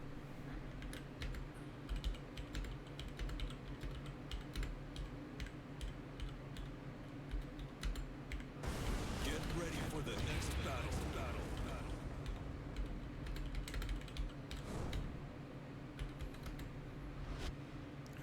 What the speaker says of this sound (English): I was literally typing to you.